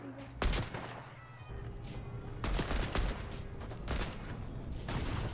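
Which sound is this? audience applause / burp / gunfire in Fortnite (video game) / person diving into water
gunfire in Fortnite (video game)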